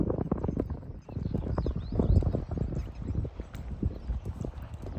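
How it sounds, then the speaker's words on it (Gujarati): A horse walks slowly with a rider aboard, its hooves clip-clopping steadily and close by through the whole stretch, with no talking. "ધીરે ધીરે ઘોડો એકદમ વોકની અંદર ચાલતો આવે"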